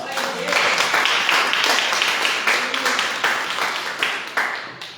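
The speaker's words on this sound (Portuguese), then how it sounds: "Quem crê, dá uma salva de palmas para Jesus" A church congregation applauds together in a dense, sustained burst of clapping that fills the hall, steady and moderately loud, then thins into scattered claps toward the end.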